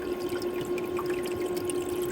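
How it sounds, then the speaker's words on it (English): Water trickles steadily into the tray of a Frigidaire ice maker, a continuous close pouring sound with a faint pump-like hum underneath, alone without talk. "Now it's filling up the tray again with water."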